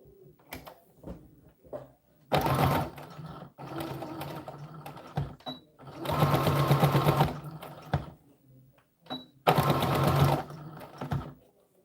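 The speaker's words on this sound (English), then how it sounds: "we'll be doing a seam down this edge so nobody will see where we did the elastic" Sewing machine stitching a sleeve seam on a doll dress, running in three loud sustained bursts separated by quieter handling clicks and brief pauses, with no talking.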